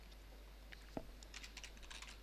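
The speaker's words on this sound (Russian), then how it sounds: "Снова вводим логин и пароль." A login and password typed on a computer keyboard: a quiet, brisk run of light key taps over a faint steady hum, no voices.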